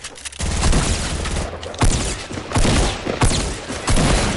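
Shotgun gunfire in a video game, a dense run of loud, rapid booming shots with brief gaps, close and dominant.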